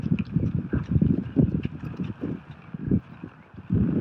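Cow used in horse riding training, hooves clopping in a steady walking rhythm on the ground, close and moderately loud with some wind noise.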